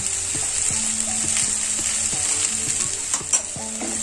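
Salted okra stir-frying in a pan, a steady bright sizzle with repeated scraping strokes of a spoon through the pieces and a couple of sharper clinks near the end, close and continuous with no talk.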